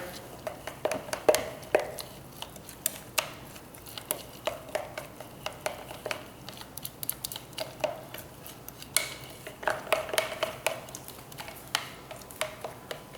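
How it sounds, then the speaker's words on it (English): A long spoon stirring a thick, pasty Budwig mixture in a container, an irregular run of scraping and clinking taps repeating throughout, close and moderately loud. "Now I use this long spoon just to mix it up in there."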